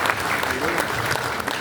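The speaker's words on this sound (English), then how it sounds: "please give the mayor a big round of applause." A large event audience gives a mayor a sustained round of applause at a celebration of a motorcycle racer's TT wins, dense steady clapping filling the short moment with no pause.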